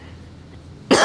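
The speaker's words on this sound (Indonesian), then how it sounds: "Maaf batuk." A single loud cough bursts out at the end after near silence, close to the microphone.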